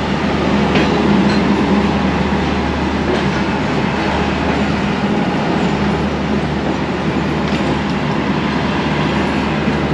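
A train rolling into the platform at Rawalpindi railway station, a steady loud rumble of wheels and carriages with faint clatter, continuous throughout and with no talk.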